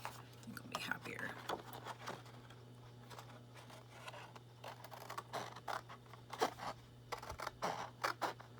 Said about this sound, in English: I'll use different scissors here